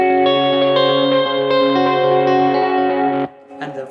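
Electric guitar played through an old Memory Man delay pedal, sustained distorted chords ringing with echo and chorus-like shimmer, then cutting off into a brief softer tail.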